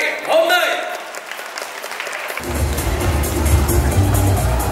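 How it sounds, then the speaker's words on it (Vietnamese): Wedding guests at a Vietnamese bride's send-off ceremony burst into applause after a brief voice, with dense clapping filling the final couple of seconds. "Xin mời quý vị cùng dành một tràng vỗ tay nồng nhiệt để chúc mừng cho buổi lễ trọng đại ngày hôm nay."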